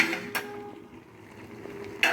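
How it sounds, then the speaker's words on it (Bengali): A cooking-pot lid is lifted while cooking taro leaves as an offering dish, giving a couple of short metallic clanks at the start and again at the end, with a faint steady hum between. "চলো বন্ধুরা, ঢাকাটা খুলে দেখি।"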